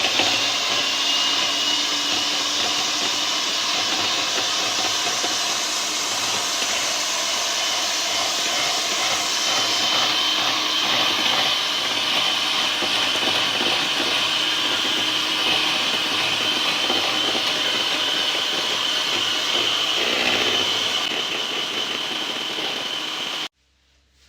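Electric mixer whipping cream for a dream cake: a steady, loud motorised whine with a high hum runs continuously for over twenty seconds, then cuts off abruptly at the end.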